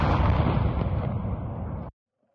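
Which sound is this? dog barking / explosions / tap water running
explosions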